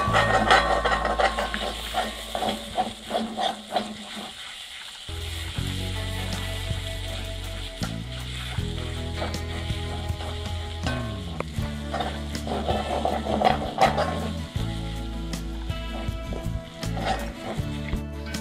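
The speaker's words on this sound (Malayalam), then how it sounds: "ഇഞ്ചി നന്നായിട്ട് നമ്മൾ വഴറ്റണം." Ginger sautés in a pan, a constant crackling sizzle that runs the whole way through, with occasional clinks and scrapes of stirring, recorded close up.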